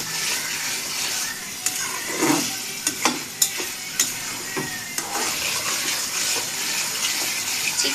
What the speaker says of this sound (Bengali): তেল দিয়ে একটু ভালো করে ভেজে নেবেন